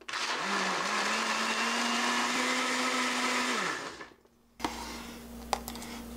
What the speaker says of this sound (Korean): 이렇게 해서 믹서기에 돌리겠습니다